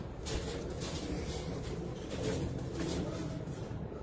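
Ringed pigeons at a rooftop loft coo in low, rolling burbles, several soft calls spread across a steady, faintly noisy background.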